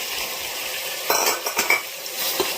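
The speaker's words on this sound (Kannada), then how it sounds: "ಈ ಮಸಾಲೆನ ಬಂದು ಚೆನ್ನಾಗಿ ಫ್ರೈ ಮಾಡ್ಕೋಬೇಕು" Biryani masala with softened tomatoes frying in a pan under a steady sizzle, with a few close scraping and clinking strokes of a spoon stirring it.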